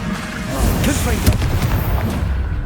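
Blasting-spell explosions from the Hogwarts Legacy video game, a dense run of booming impacts and crackling bursts with one sharp peak near the middle, loud and continuous, with a voice mixed in among the effects.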